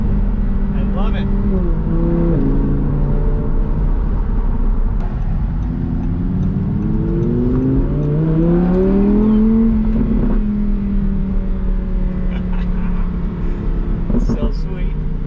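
An Audi R8 V10 Plus in Suzuka Gray accelerates while driving, its V10 engine droning loud and steady with rising and falling pitch through gear changes across the whole stretch, heard from inside the car.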